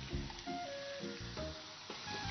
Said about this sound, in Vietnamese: cho vào dầu và chúng ta chiên vừa vàng phía bên ngoài một chút xíu thôi